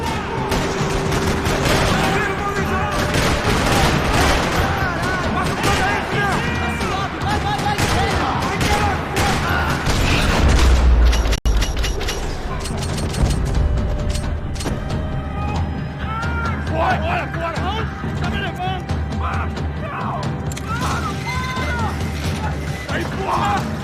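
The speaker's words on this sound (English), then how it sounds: "Another parking lot rattling with gunfire." Gunfire fills a parking lot in the Max Payne 3 video game, sustained bursts and crashing impacts rattling loudly throughout amid game music and effects, with a heavier boom near the middle.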